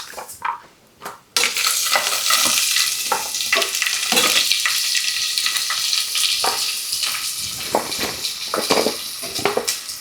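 Onion tossed into a pan bursts into a loud, broad sizzle after a couple of quiet knocks, then keeps hissing steadily with occasional stirring scrapes, close and continuous.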